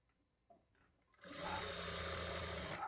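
A sewing machine stitches a lining blouse, starting after a second of quiet handling noises and then running as a steady, even whir that continues alone to the end.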